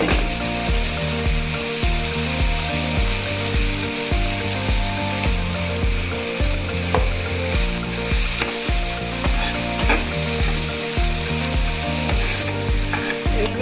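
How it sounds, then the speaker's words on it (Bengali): Tomatoes sauté in oil for a pomfret fish curry, a continuous loud sizzle and hiss with rhythmic stirring scrapes repeating every second or so, close up and without talk. "টমেটোটা একটু কষিয়ে নিলে ভালো লাগবে।"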